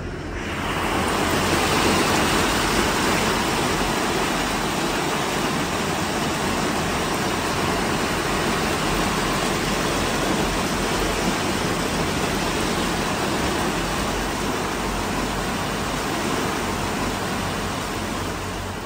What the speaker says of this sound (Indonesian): Hujannya gede banget.